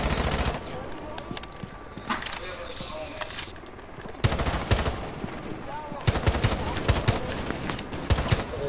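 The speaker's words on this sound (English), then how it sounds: "They shoot at me!" Enemies shooting guns in a video game: sharp rapid bursts of machine-gun fire, closer and louder in the second half, and the rattling volleys keep coming in clusters.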